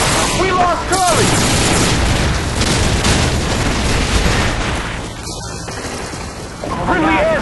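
Heavy airstrike explosions and rolling gunfire fill an online multiplayer shooter clan match, a dense, loud, continuous barrage with voices talking over it.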